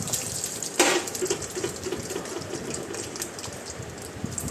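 Peanuts frying in hot ghee in a wok, a steady hiss with soft crackles and a brief sharp clatter near the start.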